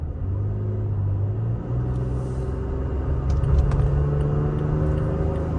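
Toyota Tacoma truck engine running under light throttle inside the cab, a steady low rumble with gentle harmonic drone that swells slightly toward the end, continuous and close.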